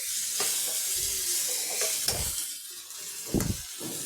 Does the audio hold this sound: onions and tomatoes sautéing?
yes